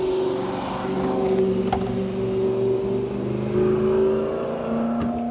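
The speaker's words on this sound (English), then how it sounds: "So I'm giving their car a bit of a belt. So there's the engine, 5 litre V8." Ford AU Fairmont wagon with a 5 litre V8 revving steadily and close by, its engine note swelling and easing over about five seconds with no one talking.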